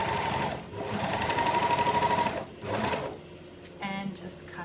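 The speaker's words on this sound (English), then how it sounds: "So we're going to just zigzag stitch between those 2 lots of stitching." A sewing machine zigzag stitches a summer skirt with an elasticated waistband, close rapid mechanical chattering in two or three bursts with short pauses between, and someone talking in between.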